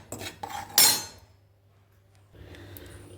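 Flour is stirred in a hot pan over a low flame: a few sharp metallic clanks of the utensil against the pan, then a near-silent pause, then faint, soft scraping.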